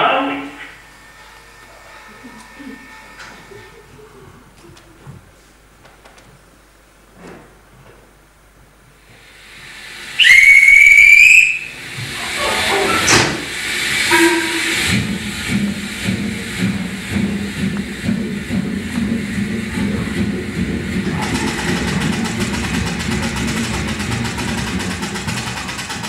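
A stage sound effect of a steam train in a theatre play: a sharp, loud whistle blast after a quiet stretch of faint knocks, followed by rhythmic chuffing and hissing steam that builds and carries on steadily to the end.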